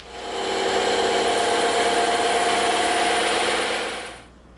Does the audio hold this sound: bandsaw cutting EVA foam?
yes